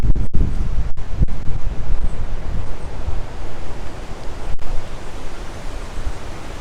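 Strong hurricane wind from Hurricane Isaias roars steadily through a backyard with rain, a dense broadband rush buffeting the microphone with gusty surges, continuous and loud throughout, with no talking.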